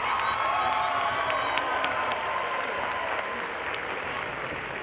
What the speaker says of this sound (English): If we could give him a round of applause in absentia,